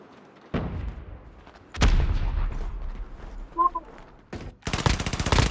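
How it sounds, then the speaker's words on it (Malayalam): Bomb-drop explosions and gunfire burst out repeatedly in a Call of Duty Mobile match, loud and dense with a sustained barrage near the end, no talking. "ബോംബ് ഡ്രോപ്പ് ഉണ്ട് കേട്ടോ അവിടെ"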